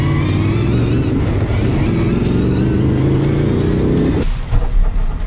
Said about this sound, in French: on a du coup le V8 7 litres derrière qui fait pas mal de bruit